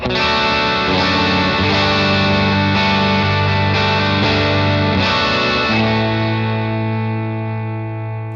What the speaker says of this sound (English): here is my signal without delay or reverb engaged